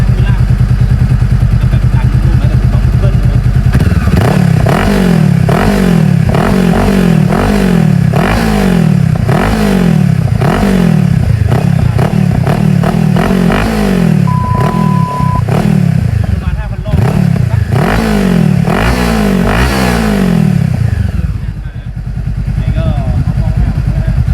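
A 2018 Honda CB500F engine is revved repeatedly, each loud blip rising and falling in quick rhythmic succession, close up, before settling back down.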